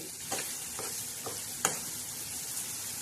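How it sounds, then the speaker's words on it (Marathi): Ground masala stir-fried in a pan for a spicy bitter gourd curry, giving a steady soft sizzle with a few scraping stirs and one sharper clink, close and fairly quiet with no talking. "हा आता हा मसाला छान असा आपण परतून घेणार आहे"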